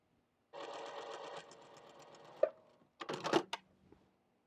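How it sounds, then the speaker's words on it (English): A sewing machine stitches a row of patchwork fabric pieces for a mug rug, running steadily for about a second before stopping, followed by a few clicks and a short second burst of stitching, fairly close. "So we're going to sew this row, and then this row."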